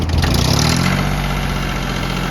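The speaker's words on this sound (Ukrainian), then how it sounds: "Чуєте, наскільки м'яко коректно працюють три циліндри від янмара на 13 кінських сил" A Yanmar three-cylinder 13-horsepower diesel micro tractor engine idles steadily up close, a loud, even low rumble with a rapid chugging pulse throughout.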